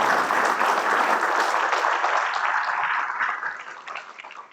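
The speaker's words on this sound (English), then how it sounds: "We can give them a round of applause." Warm applause from the audience at a school district board of education session welcomes new staff, steady at first and then gradually tapering off over a few seconds.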